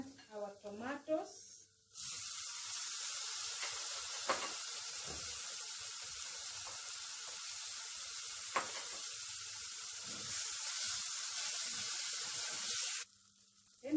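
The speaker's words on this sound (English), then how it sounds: "And then we are going to add our tomatoes." Tomatoes dropped into a simmering bean stew pot set off a loud, steady sizzle that holds for about eleven seconds, with a couple of sharp pops, before cutting out; brief clatter comes before and after.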